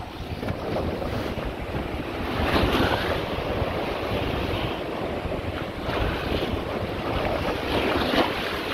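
Sea waves roll in beside the promenade at Blackpool, a steady loud roar of surf with swelling crashes, heavy wind buffeting the microphone throughout, no talking.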